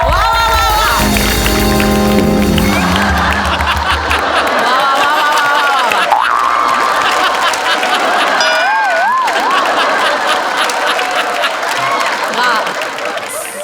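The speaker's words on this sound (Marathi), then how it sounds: "जोरदार टाळ्या" A studio audience at a Marathi comedy show's award segment applauds and cheers for the javelin-throw award winner. Music and voices sound over loud, sustained clapping that lasts throughout.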